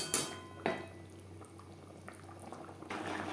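Fried katla fish belly pieces simmering in an oily, spicy gravy in a pan, a soft steady bubbling and sizzle with a couple of sharp clinks from the pan early on.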